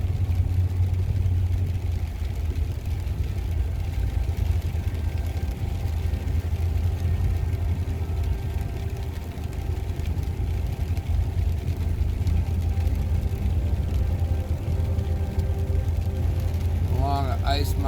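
A decades-old Blues Cruiser truck pulls a trailer along an icy mountain pass in an ice storm, a steady low engine rumble and road drone with a person talking over it.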